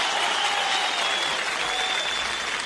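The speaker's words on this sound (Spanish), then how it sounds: "Vamos a brindarle un fuerte aplauso a Papá Dios." A crowd claps together in sustained, dense applause that holds steady for a few seconds, close and loud, with no talking over it.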